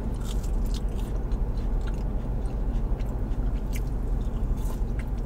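Close, wet chewing of fries and tots, steady crunching and squishing mouth sounds that run continuously and fairly loud with no speech.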